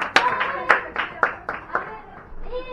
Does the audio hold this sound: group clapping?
yes